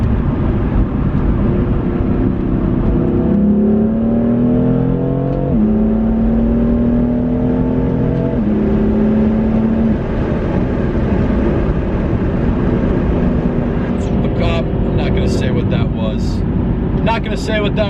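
Car in Sport Plus mode accelerating hard from cruising, engine note climbing steadily through several upshifts, loud and close from inside the cabin.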